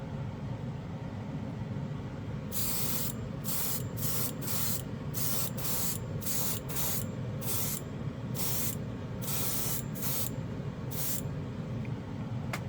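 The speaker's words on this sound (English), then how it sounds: "Look at how good this goes on, particularly with this airbrush." An airbrush spraying Jumpwind metal lacquer paint lets out a dozen or so short hissing bursts in an irregular rhythm, close up over a steady low background hum, with no voices.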